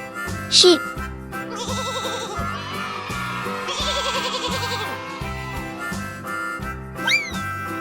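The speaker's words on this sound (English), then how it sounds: "Sheep." A sheep gives a short, loud bleat near the start, set over bright, bouncy children's farm music that keeps playing steadily throughout.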